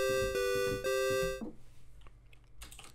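Game Boy chiptune melody in third parallels, bright square-wave tones playing a short phrase for about a second and a half before stopping, followed by faint clicks and background noise.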